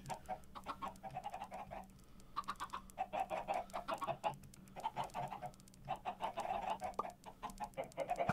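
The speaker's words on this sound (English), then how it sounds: "So this is just like the general normal chicken farm." Steady chicken clucking from several birds on a Minecraft-style video game chicken farm, continuous and fairly busy, with a low mechanical hum underneath.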